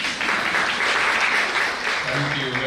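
Audience applause at a national symposium on women, peace and security, a steady dense clapping from a large crowd, loud and sustained throughout.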